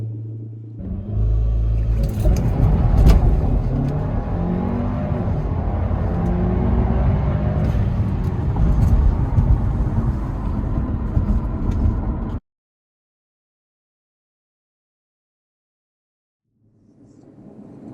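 Tuned Audi A4 launching hard with launch control from standstill to 60 mph, a loud, close, sustained roaring rumble building for about twelve seconds before cutting off abruptly, followed by silence and a faint return at the end.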